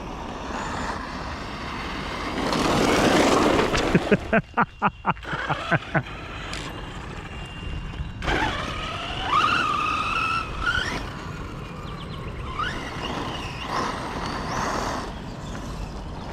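A car rolls over slippery, muddy ground with puddles and gravel, its engine and tires loud up close, with a burst of rapid rattling thumps partway through and brief voices in the background.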